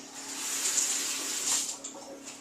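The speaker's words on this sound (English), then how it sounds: "let's wash my hands" Tap water runs while hands are washed at a kitchen sink, a soft steady splash lasting a couple of seconds with slight surges.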